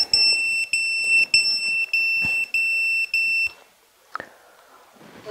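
A Mobula7 micro drone sounds its battery low-voltage warning: a loud, close, shrill beep pulsing in a regular on-off rhythm about six times, then stopping, followed by a brief knock and quiet.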